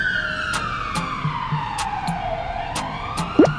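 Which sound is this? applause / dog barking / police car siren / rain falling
police car siren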